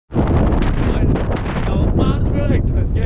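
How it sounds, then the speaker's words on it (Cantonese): Strong wind on the summit of Mount Wellington in Tasmania roars and buffets the microphone in a loud, continuous rush with no break across the whole stretch. "有 Mount Wellington 嘅山頂嚟㗎嘛，好大風。"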